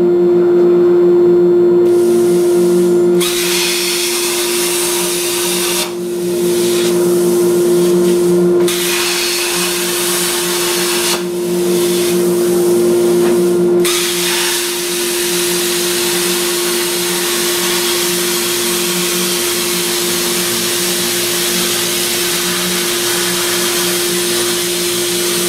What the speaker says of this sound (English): Deburred our plate we just cut out on the plasma cutter